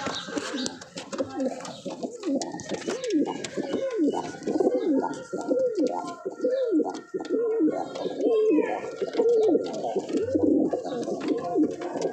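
Racing pigeons coo in a loft, a close run of repeated rolling calls overlapping one another, with faint background rustle and a brief voice.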